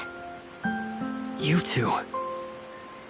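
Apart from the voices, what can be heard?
rain in the video game Tower of Fantasy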